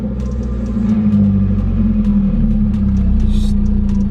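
A tuner car's engine cranks and catches while left in gear, a steady low rumble and idle drone running for a few seconds with a brief bump near the end.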